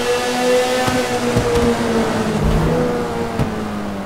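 A Sentinel Classic Widebody car in GTA 5 revving its engine inside a tunnel, a loud, steady droning note that rises and falls over several seconds, with sharp pops between, heard alone without talk.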